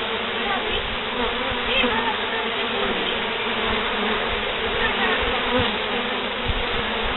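Dense, steady buzzing of a honeybee swarm at the hive entrance, many bees humming continuously and close by, with no talk over it.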